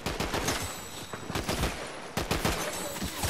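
Rapid automatic gunfire in the video game Fortnite rattles on in dense, sustained bursts with a brief lull in the middle, steady and fairly loud.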